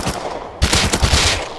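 Rapid MP5 gunfire from the video game Rust rattles out in a dense, loud burst that starts abruptly partway through and continues to the end.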